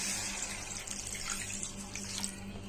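Water is poured into a pan of cooked-down masala for a fish curry, a steady close splashing pour lasting the whole short moment.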